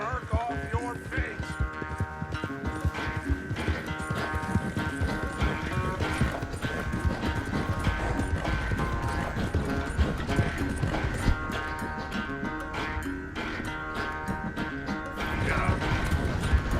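Horse hooves in the video game Red Dead Redemption 2, a steady rhythmic clip-clop under game music and ambience throughout.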